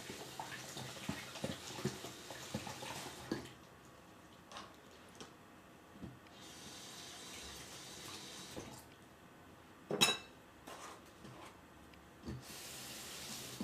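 A scallion is rinsed under a running kitchen faucet, with water streaming steadily into the sink, a few louder splashes and shifts in flow as the stalk is turned, and no talking.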